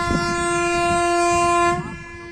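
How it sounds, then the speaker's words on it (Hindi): Train passing on a newly reopened railway track in Etawah, a loud sustained horn blast near the listener that holds steady, then cuts off with rumbling underneath. "इस पर ट्रेन भी गुजरने लगी है।"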